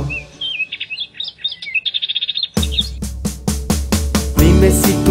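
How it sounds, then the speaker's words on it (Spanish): A bird chirps in a children's animal-sounds song, with a run of bright, rapid tweets heard alone before rhythmic music with percussion comes in. "Dime si tú sabes cómo hace el pájaro. Vamos a escucharlo tú y yo."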